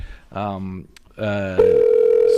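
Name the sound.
telephone ringing on a call to a guest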